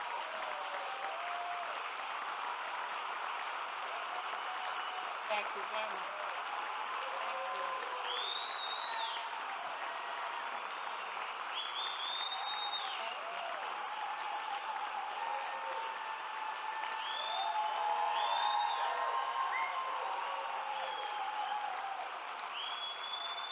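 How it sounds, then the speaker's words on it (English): An audience at an Australian Chamber Orchestra event applauds at length, a steady dense wash of clapping that swells toward the end, while a voice briefly offers thanks and scattered whistles or cheers rise above it. "Please, big round of applause, everybody."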